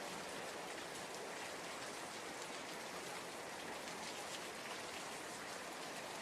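Steady rain falls in a dense, even hiss with fine patter, unchanging and soft throughout.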